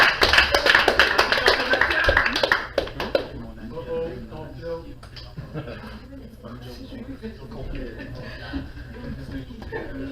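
A burst of crowd applause and cheering for a few seconds, then it dies away under people talking.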